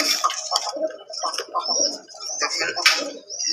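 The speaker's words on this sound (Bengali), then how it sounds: "নটটা কিছু অলরেডি ডাকাডাকি করতেছে" Fancy pigeons cooing close by on a large loft farm, soft throaty rolling coos overlapping with brighter chirps from other birds, continuous and fairly loud.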